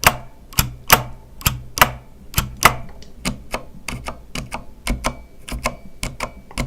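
Individual keys pressed one after another on a Corsair Strafe mechanical keyboard with Cherry switches, sharp close clacks in an uneven rhythm, some spaced apart and others in quicker runs, with no talk.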